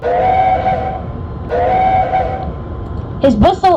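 A steam locomotive pilot whistle from a Thomas the Tank Engine video game blows two sustained, loud toots with a pause between, followed by a brief burst of a different bright, warbling tone.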